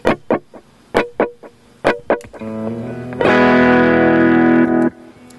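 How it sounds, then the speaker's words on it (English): An electric guitar played through a slapback echo delay: several short, sharp plucked notes each trailed by a quick repeat, then a sustained ringing chord that holds for about two seconds before cutting off. "I guess you call it slapback echo."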